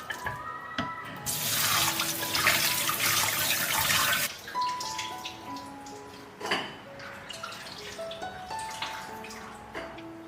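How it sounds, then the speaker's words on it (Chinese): Tap water runs loudly into a sink over pork ribs being rinsed, a strong gush for a few seconds, then trickles, splashes and clinks as the ribs are handled. "再用清水冲洗2遍"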